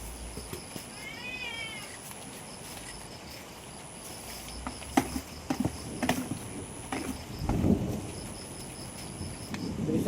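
Steady rain patters as low thunder rumbles in, growing heavier toward the end; a cat meows briefly early on.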